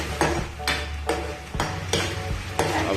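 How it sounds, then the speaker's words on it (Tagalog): Sweet and sour sauce for chicken wings being stirred in a pan, a spoon scraping in steady rhythmic strokes, about six sweeps, close and clear with no talking. "We will mix until it becomes creamy."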